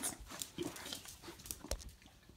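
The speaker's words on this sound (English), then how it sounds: "Dogs. Wild." Dogs panting and snuffling close by, with scattered short bursts of rustling and movement, fairly faint and irregular, no talking.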